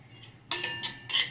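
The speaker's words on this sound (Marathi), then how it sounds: "इथे मेथीची डाळ घेतली आहे, ती पण थोडीशी भाजून घ्यायची आहे" Fenugreek seeds rattle and clink against the metal of a pan while being dry-roasted, in two short bursts of close, bright scraping and tinkling.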